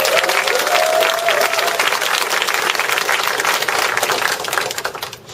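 A large audience applauds at a Korean business lecture event, steady loud clapping throughout that fades quickly in the final moments.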